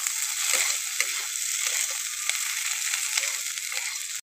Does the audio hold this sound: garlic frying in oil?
yes